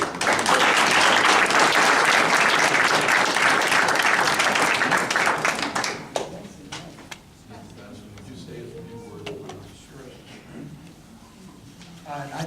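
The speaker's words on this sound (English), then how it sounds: "So if we could give, boys, can we give a round of applause for Mr. Bassman?" A room at a town council meeting breaks into loud, sustained clapping for a council leader for about six seconds, then it tapers off into quieter room noise and a few scattered sounds.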